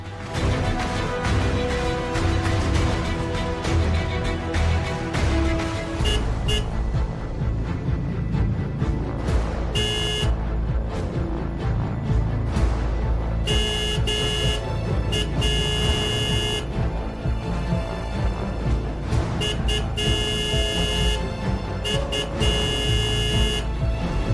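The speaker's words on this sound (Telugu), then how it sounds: "మీ ఆయన హారన్ కొడుతున్నాడు" A car horn sounds in a Telugu TV drama scene, several toots and sustained honks standing out over a loud, dense background of music and noise.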